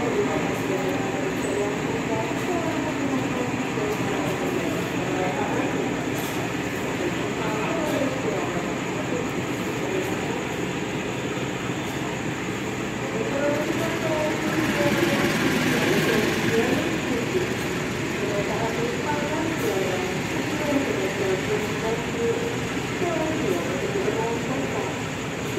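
Bandung Raya local train pulling out from platform 1 bound for Cicalengka, a steady rumbling roll with broadband rail noise lasting throughout, swelling slightly midway, with a station announcement voice over it.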